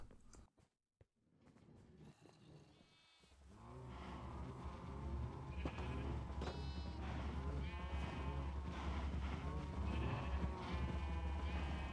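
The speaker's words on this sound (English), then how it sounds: "I managed to get my hand on a few more sheep." Sheep in Minecraft bleat repeatedly, several wavering calls close by and at moderate volume, layered over a steady low game background hum after a quiet, choppy opening.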